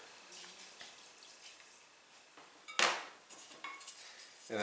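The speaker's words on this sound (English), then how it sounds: "stir those ingredients together quickly" Spoon stirring yeast, sugar and other dinner roll ingredients in a bowl, heard as faint scraping and light clinks, with a sharper clatter partway through and more knocks near the end.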